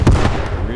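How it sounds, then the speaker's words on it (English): A grenade going off in the World War II shooter Squad 44, one short loud burst followed by a rumbling tail, with a voice over it. "Oh, grenade going out."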